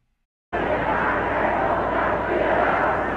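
A vast crowd of 200,000 cheering Hitler at Heldenplatz in Vienna, a dense, loud roar that bursts in abruptly after a brief silence and holds steady and unbroken throughout.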